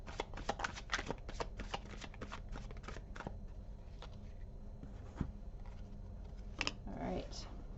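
Tarot cards being shuffled and drawn for a reading, a rapid flurry of crisp riffling flicks at first, then sparser single card snaps and slides, close and quiet.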